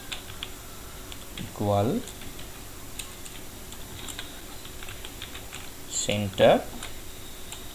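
Computer keyboard typing HTML code, with bursts of light key clicks between long quiet stretches, heard under someone speaking.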